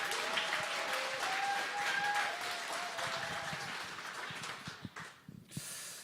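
An audience at a church evangelism camp forum applauds to welcome a pastor, a dense steady clapping that fills the room before thinning and fading near the end.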